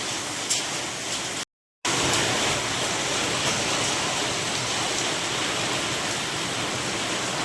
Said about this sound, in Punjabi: ਇੱਥੇ ਮੀਂਹ ਵੀ ਪੂਰਾ ਪੈ ਰਿਹਾ ਤੇ ਵਿੱਚ ਗੜੇ ਵੀ ਪੈ ਰਹੇ ਨੇ